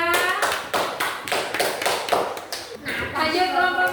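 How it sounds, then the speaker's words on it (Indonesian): A small class of university teacher trainees claps for a presenting group, with several distinct rhythmic bursts of hand claps in a room, fairly close and moderately loud. "Tepuk tangan untuk kelompok 3."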